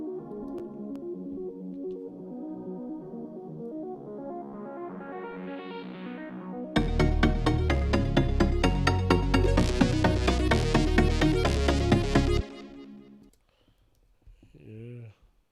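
Big room dance track building from a rising synth pad and chords into a loud, dense section of fast arpeggios and driving eighth-note chords, then dropping away abruptly near the end.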